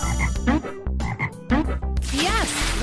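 Frog croaking in a kids' learning video game set at a pond, several bright, bubbly cartoon croaks in quick succession, loud and close, ending in a rising warbly call.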